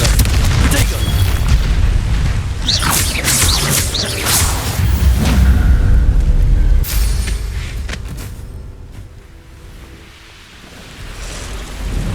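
Loud booming blast from a Confringo fire spell in Hogwarts Legacy, cast during combat in a Slytherin playthrough, with rumbling crackle, whooshing bursts and a voice speaking over the din before it fades.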